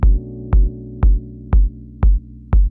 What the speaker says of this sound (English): kick came from the Analog 4 here from Elektron